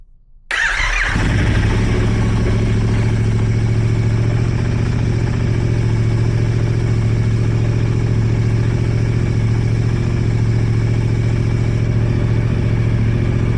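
A Yamaha R7 motorcycle with a newly fitted Hordpower intake fires up after a brief crank and settles into a loud, steady idle nearby, a continuous throbbing drone with no voices.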